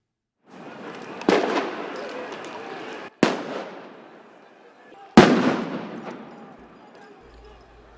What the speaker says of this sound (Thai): ตำรวจใช้ทั้งแก๊สน้ำตาและระเบิดแสงเพื่อตอบโต้ผู้ประท้วงกลุ่มหนึ่ง